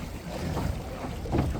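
A small sailboat out on the water at the Welsh Harp reservoir, with a steady rush of wind and gentle water noise close to the microphone and no talking.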